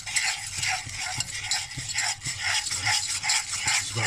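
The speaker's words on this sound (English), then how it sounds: "It's about whisking that round now." Continuous whisking of a flour-thickened white sauce for lasagne in a pan, a rhythmic scraping swish that repeats steadily, fairly close and moderately quiet.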